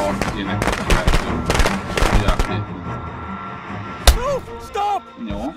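Firecracker animation in the video game Friday the 13th: a rapid burst of sharp crackling pops in the first half, then a lone crack followed by voices talking over the game.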